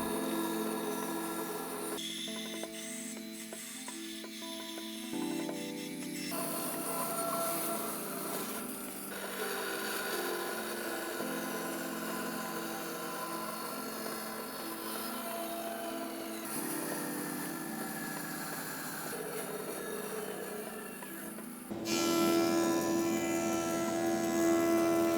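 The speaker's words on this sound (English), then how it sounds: "let me trim these two pieces to length and get everything situated" A power tool trims live-edge walnut pieces to length in a woodworking shop, giving a steady rasping, grinding whine that runs loud and continuous for the whole stretch, with a louder, brighter burst near the end.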